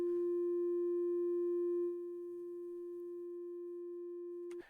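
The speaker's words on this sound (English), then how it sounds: "Let's say a sine wave." A pure steady sine tone running through a compressor in Bitwig, held evenly at one pitch, dipping slightly quieter partway through and then cutting off abruptly.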